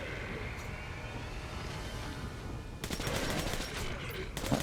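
Kalashnikov rifle fire in Metro Last Light Redux: a dense burst of rapid automatic shots breaks in near the end, loud and close over a steady background rumble.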